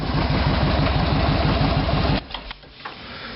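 Kawasaki Vulcan 2000 Limited motorcycle with Hard-Krome exhaust idling up close, a loud, steady, throbbing V-twin lope that suddenly drops away to quiet, with a few faint knocks after.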